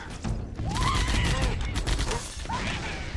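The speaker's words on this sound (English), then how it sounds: "Perfect timing on that grenade." A grenade blast in the video game Halo: Combat Evolved erupts amid a dense, continuous wash of gunfire and crashing combat noise, loud and sustained throughout, with a rising whine in the mix.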